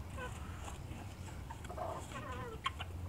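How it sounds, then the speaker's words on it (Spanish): Hens clucking faintly on a ranch during morning feeding and watering, with soft, scattered calls over steady low background noise. "Y le voy a echar más a esta gallina."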